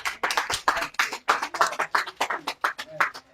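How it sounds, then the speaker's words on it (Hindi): Rhythmic hand clapping at a training session, with quick sharp claps in a steady, repeating pattern at close range. "चलो हाथ ताली हाथ ताली"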